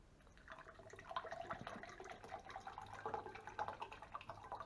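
Water being poured into a cup to prepare a Russian mountain ration, a steady trickling and splashing at close range that rises in the middle and continues to the end, with no talking.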